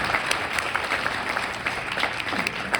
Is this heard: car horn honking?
no